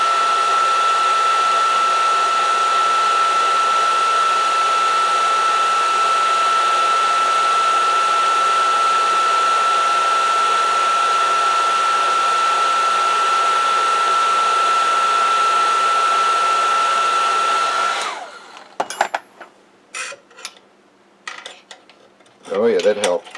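A heat gun blows on a stuck bushing on a bench grinder shaft with a loud, steady whirring drone and a constant whine for about eighteen seconds, then cuts off into scattered metallic clinks and handling noises.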